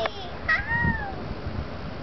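A cat meows a few times up close, short rising-and-falling cries in a quiet room, with faint talk in the background.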